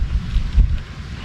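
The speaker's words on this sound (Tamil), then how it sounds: "காற்று அடிக்குது." Strong wind gusts buffet the microphone outdoors while wild jasmine honey is being poured, a steady low rumble with a stronger surge midway and no talking.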